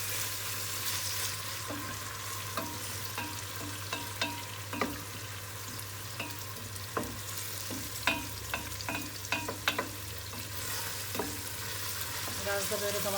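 Tomatoes being stirred in a sizzling pan while making bulgur pilaf: a low frying hiss with scattered scrapes and knocks of the spoon, irregular and close, no talking.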